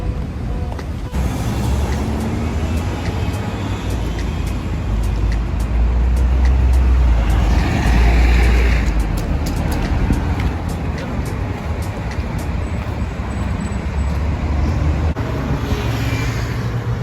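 Heavy road traffic on a busy street, with cars, a Jeep, a large Toyota and a Lexus passing close by in a continuous loud rumble, while someone talks over it.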